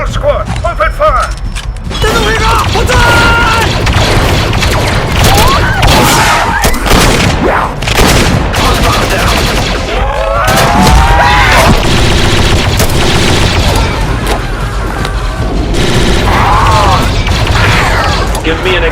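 A squad opens fire in a sci-fi game battle, with dense, continuous gunfire and mechanical clatter layered over booms and effects, loud and close, with voices shouting throughout.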